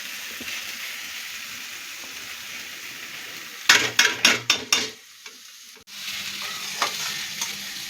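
Water spinach (kalmi shak) fries in a pan with a steady sizzle. A quick run of close spatula scrapes and stirs comes midway, then the frying hiss settles back, with no talking.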